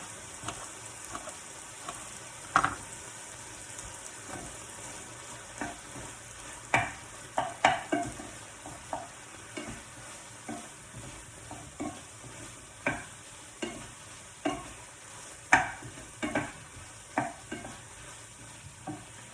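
Chunks of meat for a Thai green curry sizzle in a pan, a steady low crackle broken by frequent sharp clicks and scrapes as they are moved, close and moderately quiet with no talking.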